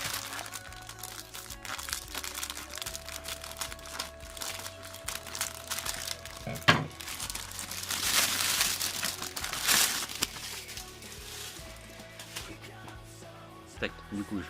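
Cardboard and plastic packaging crinkle and crunch as a parcel of Naruto figures is opened by hand, with irregular rustling bursts and a sharp crack near the middle, mixed with a person talking over it.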